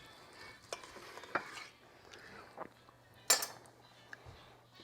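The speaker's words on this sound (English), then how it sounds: "So we're gonna cut into it and let you guys see how it turned out." A knife cuts through a cooked two-pound ribeye steak, with a few short scraping and clinking strokes against the plate, close and fairly quiet, heard alone without talk.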